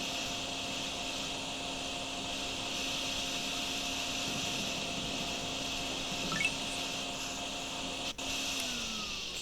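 A vacuum in the DrainSim game hums steadily and evenly throughout, a constant mechanical whine with a faint tick midway and a brief dropout near the end, no voices.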